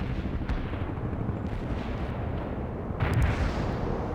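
Artillery barrage in the video game World in Conflict, a steady roar of dense, rumbling blasts with a louder burst of impacts near the end, no voices.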